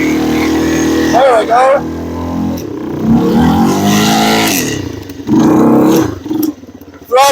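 A Yamaha 225DR outboard engine with a sticking throttle revs up and drops back in loud rising and falling bursts, with someone talking between and over the revs.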